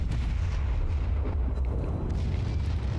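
Battleship secondary guns fire in the naval video game World of Warships, a dense, continuous rumble of booming artillery blasts close and loud, with no voices.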